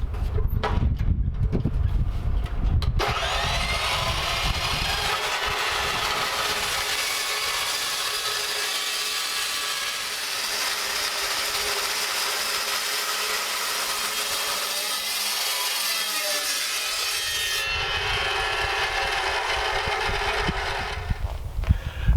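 Rusty steel being cut for a workbench frame with a power tool, a loud, steady abrasive whine running continuously for about twenty seconds with a rougher, lower onset at the start.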